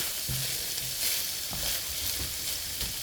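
Food sizzling and frying in a pan while being stirred, with a steady close hiss and scattered scraping stir strokes, no voices.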